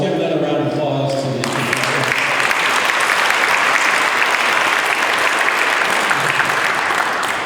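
A loud, full round of applause from the audience at a Rotary club meeting with a speech contest, beginning after a brief spoken moment and then continuing thick and even to the end.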